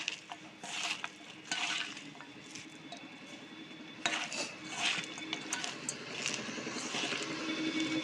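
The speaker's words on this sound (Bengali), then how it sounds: "যে সজনের ফুলটা আমরা ধুয়ে রেখেছিলাম সেই সজনের ফুলটা আমরা এর মধ্যে দিয়ে দেব, দিয়ে ভালো করে মিশিয়ে নেব।" Drumstick flowers being stirred into mustard and poppy-seed paste in a pan, with repeated scraping clinks of a spoon against metal and a soft wet mixing texture, close and fairly quiet.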